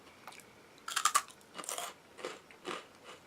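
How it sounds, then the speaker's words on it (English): Sharp, crisp crunches of a soy sauce rice cracker being bitten and chewed close up, several bursts in quick succession with no talking. "Very crunchy rice cracker too."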